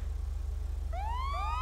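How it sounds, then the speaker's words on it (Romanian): Police car siren in a GTA-style roleplay game on an airport race setting, a loud rising wail that sweeps up in two quick swoops over a steady low engine hum, with no talking. "dacă vreți ca să mergeți cu sirenic de poliție,"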